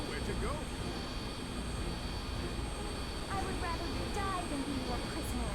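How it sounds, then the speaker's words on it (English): Jet propulsion engine in Sonic 06 gives a loud, steady roar that fills the whole span, with faint whistling tones and brief bursts of game effects over it. "Turns out anything using jet propulsion's really loud."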